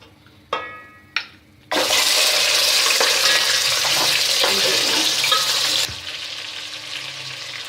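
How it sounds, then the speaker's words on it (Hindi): Chicken pieces hit hot oil in a karahi with a sudden loud, dense sizzle that holds steady for several seconds, then settles to a quieter, continuous frying hiss; a couple of short clinks come first. "अब इसके अंदर हम चिकन डाल देंगे और चिकन को इतना फ्राई करेंगे कि इसका रंग तब्दील हो जाए"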